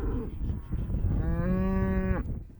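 Cattle on a working ranch give one long, drawn-out moo, clear and fairly close, with a low rumble of other livestock behind it and no talking.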